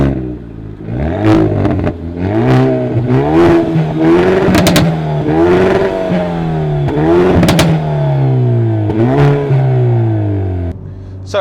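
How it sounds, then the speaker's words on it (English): A Hyundai i30N hot hatch with a 2-litre turbocharged petrol engine and active variable exhaust accelerates hard, its loud engine note rising through repeated gear changes with sharp pops and crackles between shifts. "You also get an active variable exhaust too, so it's got the noise to go with the speed."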